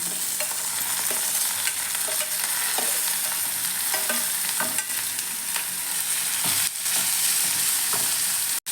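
Chopped tomatoes and onions fry in a pan for a bitter gourd gojju, a steady bright sizzle broken by repeated stirring scrapes and clinks, with no voices.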